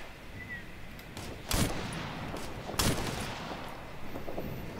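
Gunfire in the video game Operation Flashpoint: Red River: two sharp, loud shots spaced about a second apart, ringing over a steady low background hiss.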